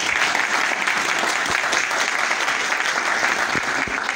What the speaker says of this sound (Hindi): मैं आप तमाम माँ बाप का तालियों की गूंज में इस्तकबाल।